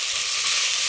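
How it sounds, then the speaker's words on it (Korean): Pork belly sizzling in a pot over high heat for kimchi stew, a steady, dense hiss of fat frying close by with no pauses and no voices. "고기를 볶아줍니다"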